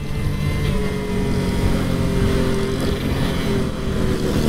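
A 1999 Honda Dio ZX scooter engine drones steadily during a test ride in traffic, a continuous loud buzzing hum mixed with wind rush and road noise, no talking.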